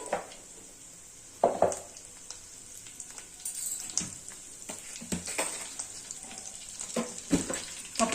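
Curry leaves dropped into hot oil in a pan for a dal dish, a sudden burst of sizzle followed by a softer ongoing fry with occasional clinks of a utensil, no voices.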